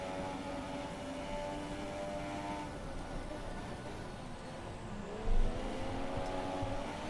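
Formula 1 2017 race cars on track in the game, a constant high engine whine with rising and falling gear pitches and a brief thump near the end.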